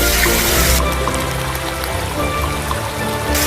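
Rainwater runs in small trickling streams on a wet Madeira trail among waterfalls, a steady, close splashing flow that holds on without pause and with no voices.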